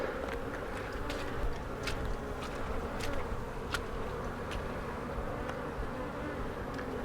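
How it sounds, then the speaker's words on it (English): Honey bees buzz around hive frames as a queenless split is made. A dense, continuous drone fills the space close by, with individual bees zipping past now and then. "So a lot of these here are field bees, and they're going to go back to the original hive."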